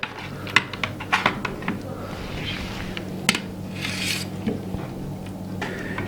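Potato simit kofte is served onto a plate, with a scattering of light clinks, taps and scrapes of utensil on dish spaced irregularly against a quiet kitchen background.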